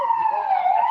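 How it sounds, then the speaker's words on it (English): Emergency vehicle sirens wail on a Brooklyn street, a steady tonal siren sweeping slowly and sounding fairly close, with no voices over it. "That's a lot of sirens."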